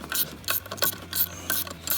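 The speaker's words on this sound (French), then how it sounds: "Et puis après, donc, au cliquet." A ratchet wrench clicks in quick repeated bursts, roughly six strokes in two seconds, close and crisp, while tightening a bolt on the belt variator of a microcar (voiture sans permis).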